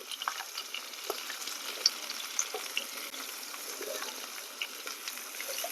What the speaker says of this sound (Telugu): ఇప్పుడు పొట్లకాయ ముక్కల్ని తాలింపులో వేసుకుందాం.